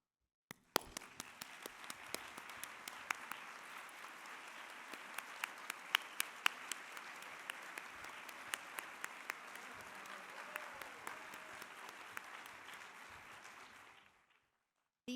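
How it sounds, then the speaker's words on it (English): An audience at an annual awards celebration applauds the standing grant team members, a steady, moderately distant round of clapping that runs on for over ten seconds before stopping abruptly. "So now I'd like to ask all of the grant team members, including committee members, to please stand for a round of applause."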